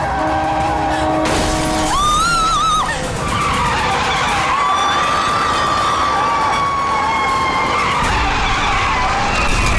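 A car screeches with long tyre skids and rising engine whine as it speeds off, loud and close, with crashing and crowd-like noise mixed in.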